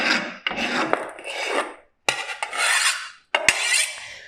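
The back of a knife blade scrapes quinoa salad off a board into a bowl in three close, rasping strokes, each ending with a short tap.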